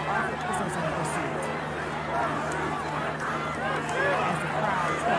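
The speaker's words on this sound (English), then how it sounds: "As the crowd takes off running" A protest crowd bolting from pursuing police, with a dense wash of hurried footsteps, commotion and mixed shouting voices, loud and continuous, steady throughout with a low hum underneath.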